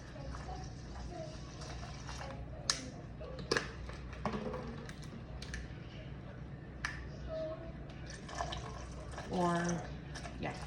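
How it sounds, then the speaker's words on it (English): Purified water, 650 grams for two loaves of bread, poured into a container on a kitchen scale, heard as faint, soft trickling with small clinks and taps and a brief burst of splashing near the end, all at low level. "you're gonna put 650 grams of purified water"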